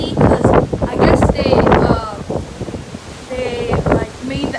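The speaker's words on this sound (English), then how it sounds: "it's so windy out here, so noisy" Strong gusty wind on the deck of an MSC cruise ship buffets the microphone in loud rushes while someone talks over the noise.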